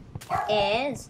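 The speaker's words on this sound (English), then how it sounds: "Oh, I think our dog's barking." A neighbor's dog barks in the background, a single drawn-out bark with a whimpering tone, heard over a voice speaking briefly at the start.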